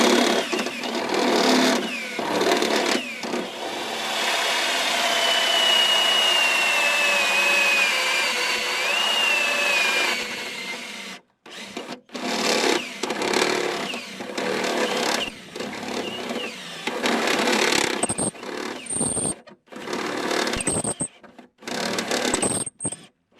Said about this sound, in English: I'm going to use one of these, what they call them, step drills, cone cutter